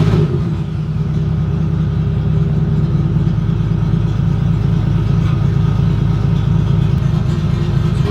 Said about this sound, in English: It's weird, it doesn't know whether it's cranking or idling.